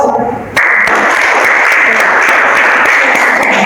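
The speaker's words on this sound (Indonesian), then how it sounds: "Oke, terima kasih untuk kelompok 1, beri aplaus" A classroom group claps together after a presentation, with loud, dense applause starting abruptly and continuing steadily, preceded by a brief murmur of voices.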